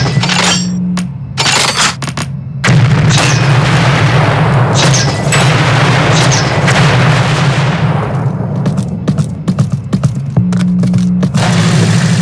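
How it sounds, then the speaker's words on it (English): Incendiary grenades bursting in Unreal II: The Awakening, a run of loud booming blasts with sustained roaring fire between them, close and dense throughout. "so you can bounce the grenades around some before they explode"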